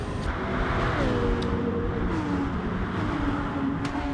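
Two BMW race cars in a racing series, engines revving hard and climbing in pitch together as they power through a corner, close and loud with overlapping engine notes.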